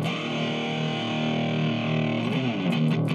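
Electric guitar runs through a Line 6 Sonic Port into the POD app on an iPad or iPhone and gives a thick, sustained distorted tone that rings steadily, with a few brighter picked accents near the end.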